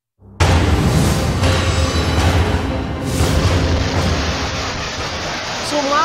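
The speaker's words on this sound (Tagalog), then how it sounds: "Sumabog at gumuho ang gusaling yan sa China." A sudden massive roar bursts in and holds as a dense, rumbling wash of noise as a building in China explodes and collapses, debris crashing down, loud and sustained.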